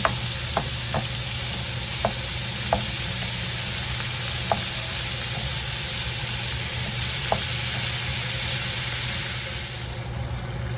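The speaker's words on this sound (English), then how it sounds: "brown the ground beef, cook down the onion." Ground beef and onion browning in a pan give off a loud, continuous sizzle with a few soft clicks of utensil taps, easing off slightly at the end.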